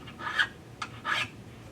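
Metal fret ends on a cittern being rounded over with a file: three short rasping strokes, close and fairly quiet, with brief pauses between them.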